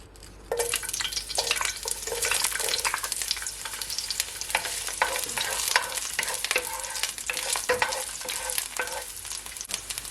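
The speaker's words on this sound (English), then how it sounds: "So now that my oil is all heated up, I'm gonna add my onion first." Onion dropped into hot olive oil in a pan, bursting into a loud, dense, crackling sizzle that holds steady with stirring scrapes, close and continuous, no voices.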